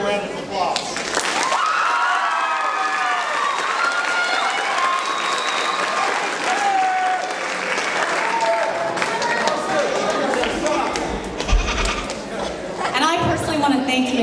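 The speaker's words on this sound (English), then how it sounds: "so give them a round of applause" Sustained applause from an audience at a middle school academic awards ceremony, steady and full-bodied throughout with crowd murmur mixed in, near and loud without pause.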